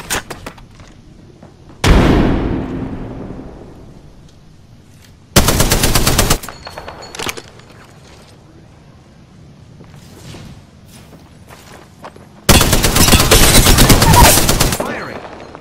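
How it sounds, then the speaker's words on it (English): Automatic weapon fire in a ranked battle-royale shooter match, three loud sustained bursts of rapid shots with a decaying echo after the first, close and dominant, separated by quieter game ambience. "The enemies are shooting at me."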